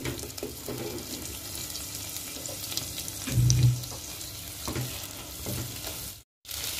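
Mashed garlic being sautéed in a pan, giving a continuous soft sizzle and fry with scattered stirring scrapes and one louder clatter near the middle, all heard up close with no talking.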